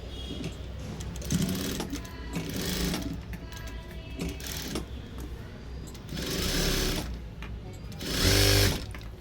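A sewing machine topstitches along blouse fabric on a size-32 four-tuck blouse, running in several short, close bursts of rapid stitching separated by brief pauses, with no talking.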